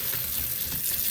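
Salt cod fritter batter hisses and sizzles steadily as it is poured into hot frying oil in a Jamaican home kitchen, a close, continuous crackle with no voices.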